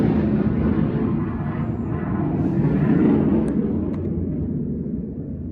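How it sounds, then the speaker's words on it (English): Jet fighters taking off and landing at a naval air station, heard as a heavy, rumbling engine roar that swells and slowly fades, carrying from a distance. "Don't know what type of jet fighter those are."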